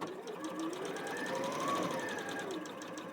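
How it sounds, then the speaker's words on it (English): A sewing machine stitches a quilt block along a marked line for a Churn Dash or Wedding Ring sampler, running in one steady, close, continuous hum for about three seconds with no talking. "Okay, so now I'm just going to follow my line."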